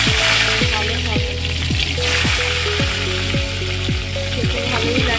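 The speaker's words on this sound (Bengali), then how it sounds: "আগেই আমি তেল দিয়ে দিয়েছি, তেলটা গরম হয়ে গেছে। এবার বেগুনটা ভেজে নেব।" Eggplant (brinjal) slices fry in hot oil with a loud, continuous sizzle. A repeating run of falling tones and light clatter plays over the hiss.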